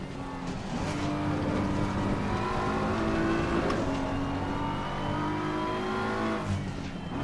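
Race car engines in the racing game Assetto Corsa Competizione, with a McLaren close by, drone loudly and steadily, their pitch rising and shifting through the gears with no voices over them.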